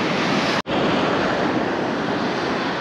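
Strong wind blowing at the seashore during shore fishing, a loud steady roar of wind and surf buffeting the microphone, broken by one abrupt split-second dropout before the rush resumes.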